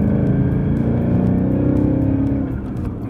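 A Subaru WRX engine roars loud and close under steady acceleration, a dense, throaty drone holding for about three seconds before easing slightly at the end.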